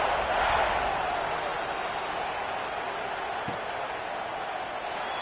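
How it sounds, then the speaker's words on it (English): Stadium crowd at a football game, a broad steady roar of many voices at a distance, continuous and fairly loud, with a faint voice woven in. "this crowd is buzzing after that last score"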